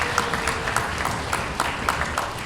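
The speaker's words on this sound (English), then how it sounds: "Please give yourselves a round of applause." An audience at a high school spring concert applauds, steady and fairly loud, with dense clapping from many hands carrying on evenly throughout.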